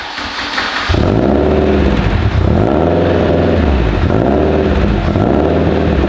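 Honda car engine running rough and rich after a fuel injector rescale for 2000 cc injectors, starting up around one second then holding a loud, uneven idle with a lumpy, pulsing rumble that repeats roughly every second and a half.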